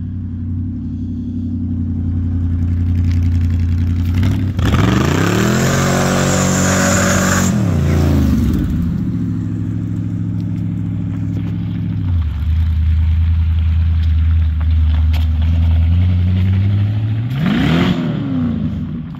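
A small car's engine, said to have zero oil pressure, idles loudly nearby and is revved hard several times, pitch climbing and falling in surges before settling back to a deep idle.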